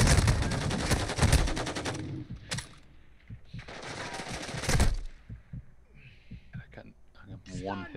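Bursts of rapid automatic gunfire rattle loudly in Call of Duty Modern Warfare 2, two sustained volleys with single shots between them, then players talk over quieter background action.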